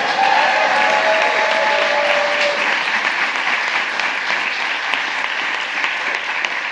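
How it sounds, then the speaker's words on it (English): Audience applause fills a bill signing ceremony in Washington, D.C., a dense, steady wash of clapping from a sizeable crowd that holds at full strength throughout, with no talk over it. "You can clap for that because that's what you do."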